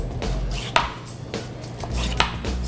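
A kitchen knife chops through baby bok choy on a cutting board, with a series of crisp, close-up thuds and crunches at an uneven pace.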